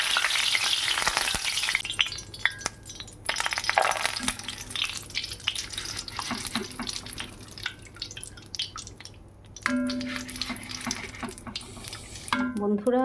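Curry leaves dropped into hot oil with dried red chillies, bursting into a loud, violent sizzle and spluttering crackle that stays close and busy throughout, with clatter near the end.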